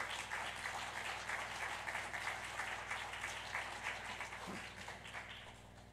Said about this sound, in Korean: 우리 박수로 크게 환영해 주시기 바랍니다